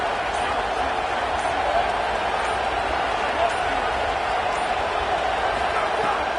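A steady roar of a college football stadium crowd waiting on a big third down, dense and continuous with no clear breaks, loud throughout.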